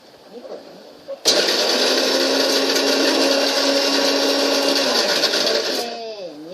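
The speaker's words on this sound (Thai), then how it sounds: "เราก็จะนำไปปั่นนะคะปั่นใส่เครื่องปั่นนี่แหละ" A loud blender starts abruptly and grinds turmeric steadily at high speed for several seconds, then winds down as the motor slows.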